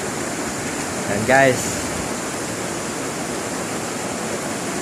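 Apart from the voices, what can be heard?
heavy rain falling in Bohol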